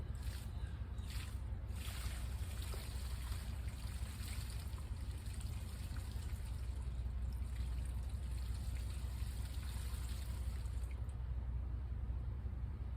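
Water seeping slowly into dry, hydrophobic potting soil in a grow bag, a faint steady trickle and dribble with low rumbling background noise, no voices, continuous for the whole stretch.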